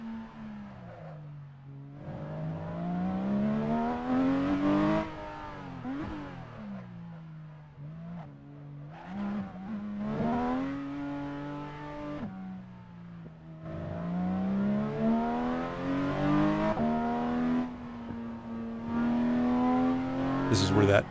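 A car on the bumpy rally route from Tossa de Mar to St. Grau, its steering wheel shaking with vibration, drives with a rising and falling engine drone as it accelerates and eases off through bends, heard from inside.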